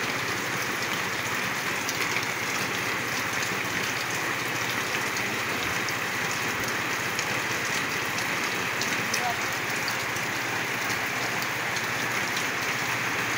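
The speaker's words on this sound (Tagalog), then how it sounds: "Umulan na naman mga kapiks." Heavy rain pours steadily and loudly, a dense, constant hiss of drops drumming on surfaces throughout.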